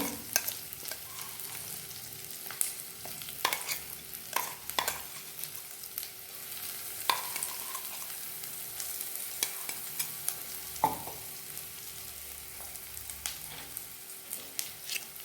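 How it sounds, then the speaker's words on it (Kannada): Ground masala with curry leaves fries in oil with cassava, a low steady sizzle broken by frequent sharp scrapes and taps of a spoon stirring the pan, close by with no talking. "ಎಣ್ಣೆಯಲ್ಲಿ ಒಳ್ಳೆ ಫ್ರೈ ಆಗಲಿ."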